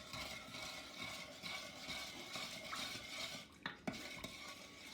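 A utensil stirs sugar into melted butter for cinnamon buns, scraping and clinking against the bowl in quick, irregular strokes, close and fairly quiet, with a couple of sharper knocks near the end.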